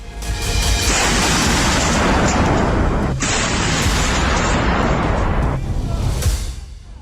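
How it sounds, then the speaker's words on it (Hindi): A Koksan 170 mm artillery gun fires, producing loud, close, booming blasts that roll into a sustained roar, with a brief break partway through before another heavy burst. "ये आर्टिलरी गन 170 mm के गोले दागती है और 5 मिनट में 2 राउंड फायर कर सकती है।"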